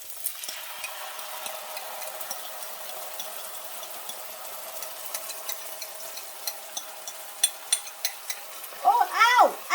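Beijing beef sauce sizzles in a hot frying pan with a steady, close crackling hiss, ending in louder bursts of stirring and pan clatter.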